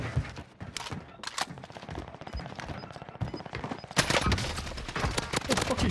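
Video game gunfire aimed at the player, rapid bursts of shots cracking close, growing louder and denser toward the end, with game noise and a voice now and then.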